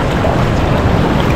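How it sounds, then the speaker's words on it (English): Ocean waves rolling in toward the shore at Nusa Penida in Bali, a loud, continuous broadband wash of surf and wind roar filling the whole moment with no talking. "Waves in the distance coming at me again now."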